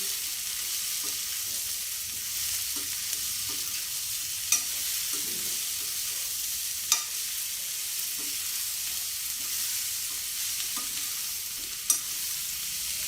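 Radish leaves and stems sizzle in a pan of tamarind pulusu, a steady crackling frying hiss with faint stirring clinks and a few sharp taps, no voices.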